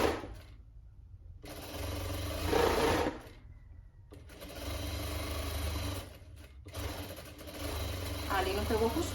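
A sewing machine stitches winter pajamas in several runs of fast, humming motor whir, pausing briefly between seams, fairly close and moderately loud.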